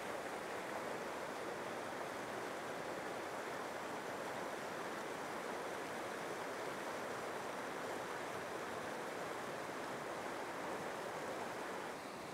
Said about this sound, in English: I'm actually sitting right next to Scenic Creek right now.